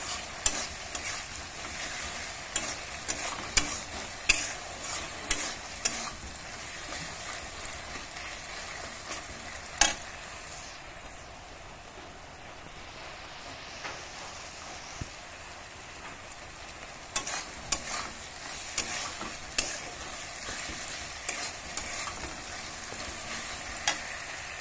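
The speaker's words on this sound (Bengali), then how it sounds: "এখন ভালো করে ভেজে নেব" Food being fried and stirred with salt in a pan before boiled potatoes go in, with a steady sizzle broken by repeated scraping stirs and clinks, close and fairly loud, no voices.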